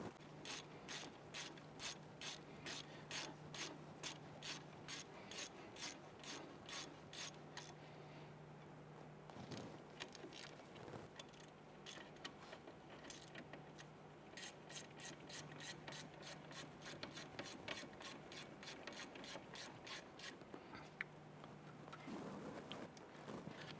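Close, rapid ratchet clicks come in steady bursts with short pauses as caliper bolts are snugged on the front brakes of a 1999-2004 Jeep Grand Cherokee, with a faint steady hum underneath.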